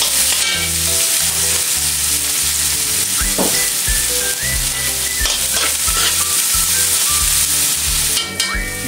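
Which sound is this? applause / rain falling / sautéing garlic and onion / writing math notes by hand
sautéing garlic and onion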